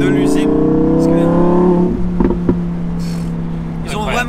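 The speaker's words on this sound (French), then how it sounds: "des voitures comme celle-ci avec un gros V10 atmosphérique qui font un bordel comme ça" A Lamborghini Huracan EVO RWD Spyder with a naturally aspirated V10 revs loudly and close, a sustained high howl that drops away and ends in several sharp pops, with someone talking over it.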